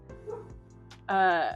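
Dogs barking in the background of a home livestream, a short burst of loud yapping near the end following quieter sounds, with a person talking over it.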